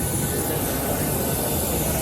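Airplane engines droning while passengers board the aircraft, a loud steady broadband roar with a constant high whine, no breaks throughout.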